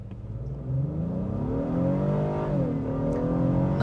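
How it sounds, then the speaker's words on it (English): A 2026 Honda Passport Trailsport's V6 engine in sport mode pulls hard from a brake-torqued launch up a slight uphill stretch, with a steady, rising rev climb and a brief dip and recovery at an upshift, heard from inside the cabin. "Nice sounds from the V6."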